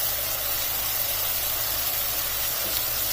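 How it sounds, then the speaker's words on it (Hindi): Chicken pieces frying in hot oil, a steady, continuous hiss and sizzle that holds at an even level throughout, with no talking over it. "चिकन को मैंने ऑयल में 3 से 4 मिनट तक फ्राई कर लिए।"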